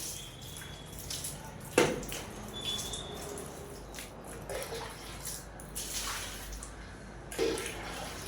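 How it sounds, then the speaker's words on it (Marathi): Water splashes and trickles across a balcony floor during washing, with scattered drips and a few sharper splashes over a low, steady wash. "तर मग मी गॅलरी पण पटकन"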